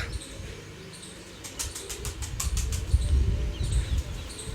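A female pigeon beats its wings in a burst of flapping as it is let go, the close, fluttering rustle building for a couple of seconds over steady background noise, with no voices.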